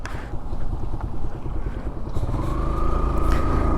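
A modified Suzuki Gixxer motorcycle engine runs steadily on the road, its rumble rising in pitch as it picks up speed, with wind noise.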